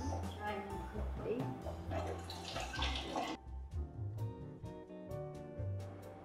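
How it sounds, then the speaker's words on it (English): Soaking water drained off cashews in a kitchen: splashing, running water and drips at moderate level, with a person talking over it throughout. "So I'm just going to drain the water out of these cashews now."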